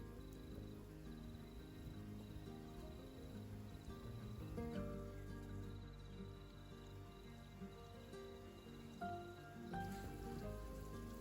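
Steady, faint hiss and patter of a hose watering a small backyard vegetable garden bed after planting, continuous throughout with no voices.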